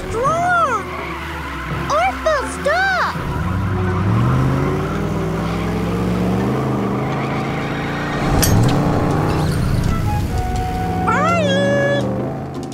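Cartoon tow truck driving, a revving engine and skidding tyres running through the middle of the scene, framed by cat-like meows and squeaky cartoon sound effects at the start and end.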